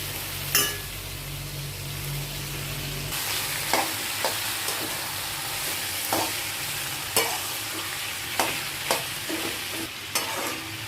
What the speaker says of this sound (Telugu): ఇప్పుడు చిక్కుడుకాయ వేస్తున్నానండి.